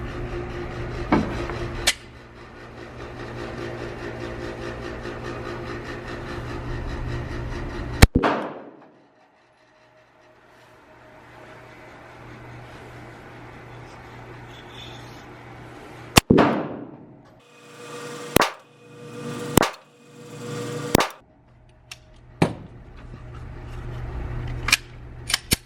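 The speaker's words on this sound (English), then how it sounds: "I got the target about 5 yards away, and I'm gonna try 5 rounds in a 1-hole drill for each" Glock 42 pistol fired at a target about five yards away at an outdoor range: sharp, loud shots spaced a second or two apart, with a steady background hum early on and no voices.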